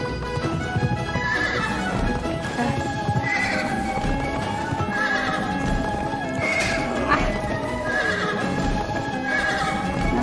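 Repeated whinnies from a galloping horse in the video game Pumpkin Jack, swamp level, ring out at regular intervals over continuous clip-clop hoofbeats and steady game sound, with faint player talk underneath.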